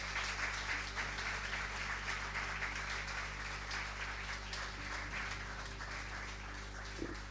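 Church congregation applauding together during a Spanish-language service, a steady broad wash of clapping that holds at an even level throughout, with a faint low hum underneath and no talk.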